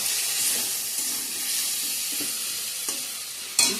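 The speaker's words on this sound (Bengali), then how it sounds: "মশলার সঙ্গে ভালো করে ভাজা ভাজা হয়ে গেছে" Spices with cumin and coriander powder sizzle in a hot pan, a constant frying hiss broken by several scraping stirs, the last one sharper and louder.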